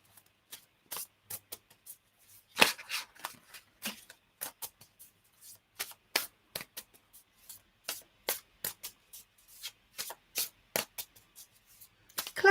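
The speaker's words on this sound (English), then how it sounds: "I'm shuffling the cards as we speak, Chloe." Tarot cards shuffled by hand during a live reading, giving a rapid series of crisp riffling and slapping bursts, close and fairly quiet, with no talking.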